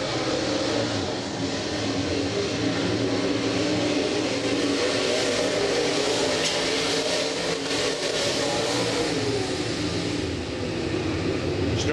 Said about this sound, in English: Here comes the 2 car now, Stormy Scott.